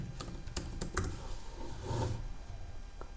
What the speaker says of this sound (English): So I'm just typing username and password.